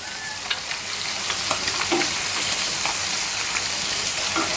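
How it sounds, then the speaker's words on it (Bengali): Fish rubbed with turmeric, salt and chili frying in a pan, a steady loud sizzle with small pops and crackles throughout, no voices. "এই যে মাছ ভুনার জন্য মাছটা হলুদ, লবণ, মরিচ দিয়ে মেখে রেখে ভেজে নিচ্ছি।"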